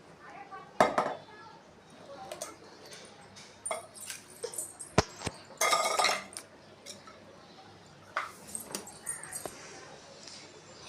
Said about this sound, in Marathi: तर आपले तांदूळ आता भाजायला लागले.